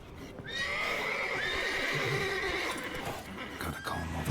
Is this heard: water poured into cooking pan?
no